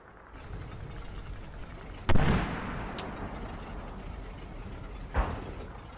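A secondary explosion in the World War II strategy game Combat Mission Final Blitzkrieg lands as a sharp, booming blast, followed by a brief high crack and a second, softer thud over steady battlefield rumble.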